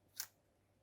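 A single quick snip of scissors cutting a paper card piece for a Christmas card, faint and brief in a quiet room.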